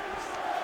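Arena crowd cheering at a fight in UFC 5 after an extended grappling exchange, a brief, steady roar of distant massed voices, moderately loud and continuous.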